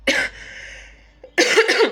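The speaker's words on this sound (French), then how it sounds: "Il tousse encore beaucoup" A child coughs in two harsh bursts separated by a short lull, close to the microphone, with no talking.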